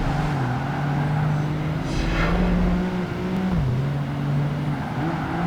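Engine drone from sports coupe race cars in Project Gotham Racing 2, a steady loud hum with pitch shifting as the car accelerates and shifts, and a brief whoosh of another car passing midway.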